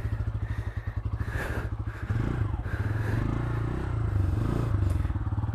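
A Bajaj Pulsar N160 motorcycle engine runs loud and close on a village road, with a steady pulsing idle that grows heavier after a couple of seconds as the wheel spins and the bike strains.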